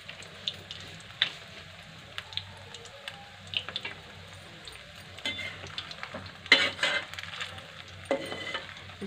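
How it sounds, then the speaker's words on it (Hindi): Veg manchurian fries in a pan with a quiet, steady sizzle and scattered scraping clicks from stirring, then a louder clattering burst near the end, heard close with no talking. "इस तरीके से हमें चला के पका लेना है"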